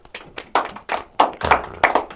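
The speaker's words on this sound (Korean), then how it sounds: "박수 한번 주겠습니다." A small group of students claps in a classroom, a short burst of about seven distinct, fairly close hand claps in an uneven rhythm.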